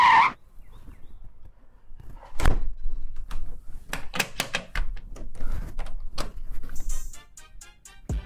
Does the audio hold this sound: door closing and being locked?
yes